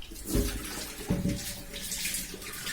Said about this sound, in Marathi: आता मी स्वच्छ पाण्याने धुवून देते